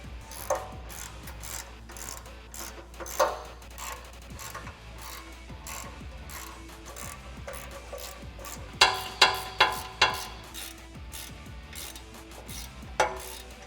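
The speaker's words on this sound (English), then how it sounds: "we can go and tighten everything down with a 16mm deep socket" A ratchet with a 16mm deep socket tightens bolts on a front bumper for a 2007-2018 Jeep Wrangler JK. Quiet clicking runs through the clip, then a close burst of four quick ratchet clicks comes near the end.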